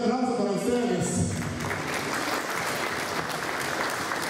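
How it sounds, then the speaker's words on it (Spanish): A church congregation applauds during a prayer service, steady dense clapping filling the space; voices and a speaking man are audible over the opening second before the clapping carries on alone. "un aplauso para ustedes."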